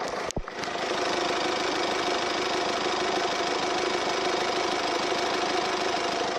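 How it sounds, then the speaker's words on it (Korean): A Mercedes four-wheel-drive sedan's diesel engine idles steadily with a gritty, clattering rumble, close and continuous after a brief knock at the start. "확실히 벤츠 디젤 엔진답게 정말 박력 있고"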